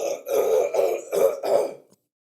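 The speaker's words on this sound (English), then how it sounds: "My throat hurts so much that I tried to cough that up and I couldn't." Someone with a sore throat clearing it hard, four or five rough guttural bursts in quick succession, close and alone, ending in silence.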